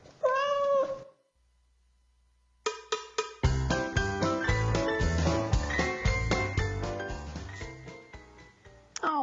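A cat in a shelter pet adoption commercial gives a close, clear meow, followed by a pause and then bright, tinkling background music with chime-like notes.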